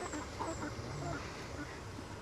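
Hybrid egg-laying chickens being delivered to a cage-free layer setup cluck faintly and intermittently in the background, with people talking nearby.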